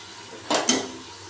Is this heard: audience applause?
no